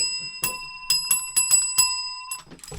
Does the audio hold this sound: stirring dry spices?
no